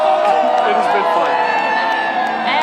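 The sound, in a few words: parade crowd cheering for Stanley Cup champions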